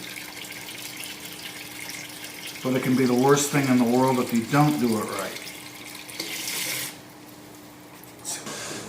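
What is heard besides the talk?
bathtub tap running water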